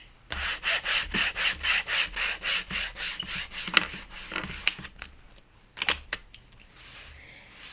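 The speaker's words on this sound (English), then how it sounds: "just glue this together. So we burnish." Glued paper for a handmade journal is burnished with a steady back-and-forth rubbing, about a dozen regular close strokes followed by slower, irregular scrapes and a few sharp taps, with no talking.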